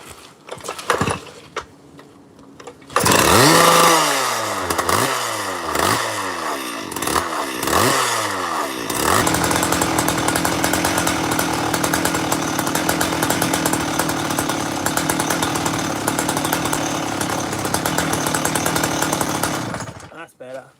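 A Stihl TS410 petrol cut-off saw pulled over and started, with a few sharp revving bursts before settling into a loud, steady high-pitched idle that runs on until it cuts off at the end.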